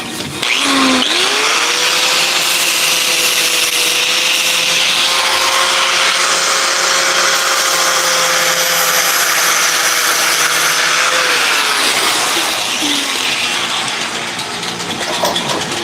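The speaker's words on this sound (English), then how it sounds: "I forgot to warn you that I was gonna use a grinder. But I'm gonna use a grinder again." A handheld grinder works a metal piece clamped in a vise, a loud, steady whine that holds for about eleven seconds before winding down near the end, with no talk over it.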